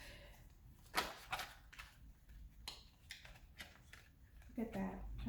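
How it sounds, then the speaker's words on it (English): A tarot deck is shuffled by hand, with several quick papery riffles and taps spread irregularly through the stretch, close and fairly quiet against a low room background. "Spirit is telling me to do more shuffles."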